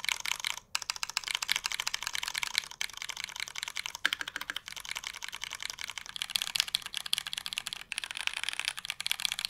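Steady rapid typing on a black polycarbonate Think6.5 mechanical keyboard with lubed Cherry MX Brown switches: a close, unbroken patter of soft clacks with slight changes in pitch and a few brief gaps.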